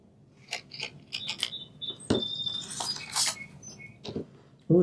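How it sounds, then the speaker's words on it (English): Close scissors snipping through paper in short crisp cuts and rustles, with a brief pause between bursts. "let's cut a little bit of this off"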